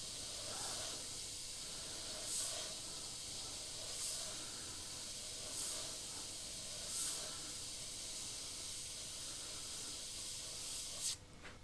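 An Iwata HP.CH airbrush sprays with a steady close airy hiss, swelling in regular short bursts about every second and a half before cutting off near the end.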